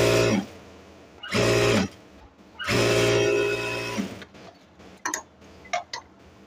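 A sewing machine stitches the bottom hem of a pant-cut salwar, running in three loud bursts of motor whir with short pauses between, then a few lighter mechanical clicks and taps at the end.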